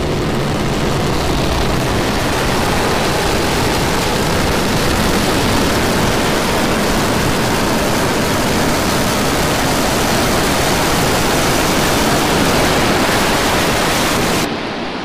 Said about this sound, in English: We're preparing to light 3 Raptor engines to begin the flip sequence.